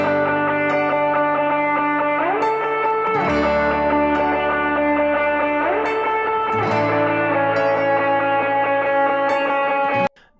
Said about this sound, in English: as I turned up this mono spring sounding reverb, that the guitar sounded like it actually got further away